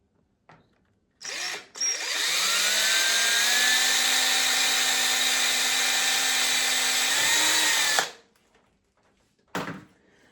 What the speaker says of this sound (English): and then I'm going to drill a hole.